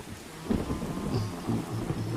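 In the video game Zombie Forest 3, steady rain hisses while thunder rumbles low and continuous throughout, with no voices present.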